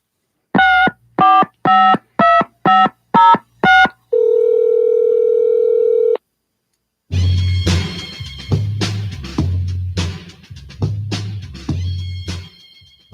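A telephone line plays a quick run of about seven touch-tone dialing beeps, then a steady dial tone for two seconds, and after a pause a voicemail line comes on with muffled noisy audio, loud and close.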